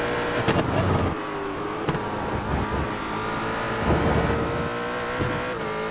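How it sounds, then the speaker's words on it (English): Race car engine at Road Atlanta in the iRacing sim, a continuous harmonic drone with sharp throttle blips and gear-change surges, sounding close and steady with no talk. "It sounds really good too"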